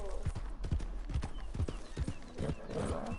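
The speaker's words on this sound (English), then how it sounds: "O cavalo vai escorregar, ela tá cansada." A tired horse gallops in a PS4 video game with quick, loud rhythmic hoofbeats, while a player talks over it.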